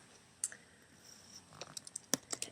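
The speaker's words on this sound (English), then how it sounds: "So I'm just going to start typing" Typing on a computer keyboard: sparse, quiet key clicks at first, then a quicker irregular burst of taps toward the end, recorded close in a quiet room.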